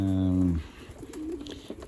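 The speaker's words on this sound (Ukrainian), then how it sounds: "І оці молоді голубенята, яких ми зараз будемо бачити" Young pigeons coo softly nearby, one low rolling coo at the start followed by faint chirps and shuffling sounds.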